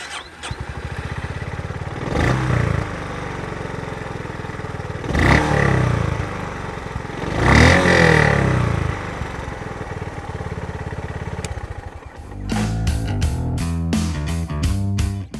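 A single-cylinder motorcycle engine runs with a deep, steady thumping idle, swelling through a few revs before rapid, evenly spaced pulses at the end.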